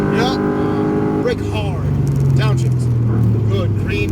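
A Mercedes AMG GT R sports car accelerates on a Las Vegas track, its engine note climbing steadily and loud from inside the cabin while an instructor talks over it.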